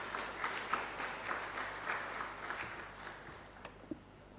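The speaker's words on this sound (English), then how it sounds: "Let us welcome him with a clap." An audience at a land surveying division annual seminar claps to welcome a speaker: faint, fairly distant applause with a loose patter of individual claps that thins toward the end.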